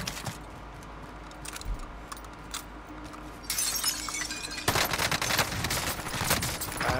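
Rapid gunfire in a video game firefight with the player under hostile fire, bursts of crackling shots growing louder and denser midway, sustained and close with glassy shattering textures.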